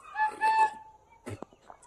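A hen that has hatched chicks from her eggs clucks in a few short bursts close by, with a pause and then a brief scratchy noise and faint soft calls after.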